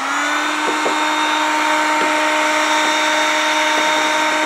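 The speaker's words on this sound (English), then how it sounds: "I hit this with the heat gun." Heat gun blowing on a plastic water bottle to soften it for a planter: a loud, steady whining fan-and-heater drone with a constant high tone, broken by a few faint clicks and taps, no talking.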